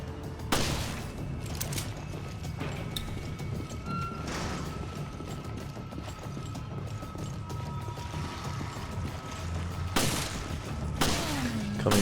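Several gunshots in Resident Evil Revelations Raid Mode, a few sharp, loud broadband cracks spaced apart over a steady low ambient hum in the crew quarters, with no talking.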